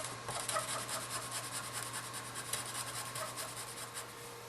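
Scratching ink off the white stripes of a zebra scratchboard, a close, steady run of rapid dry rasping strokes, quiet and alone.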